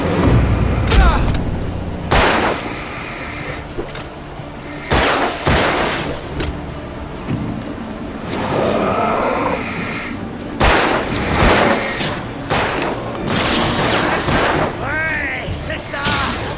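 Gunfire in the video game Alan Wake, a string of loud, sharp shots in bursts with booming impacts, mixed with in-game voices talking and shouting.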